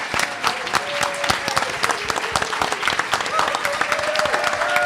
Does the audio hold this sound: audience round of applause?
yes